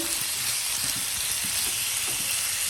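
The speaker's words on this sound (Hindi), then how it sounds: "चिकन हमारा बहुत छोटा छोटा है इसलिए हम कुक इसको हाई फ्लेम में ही करेंगे" Small chicken pieces cooking on high flame in a pan give a continuous close, even sizzle with faint crackles, no talking.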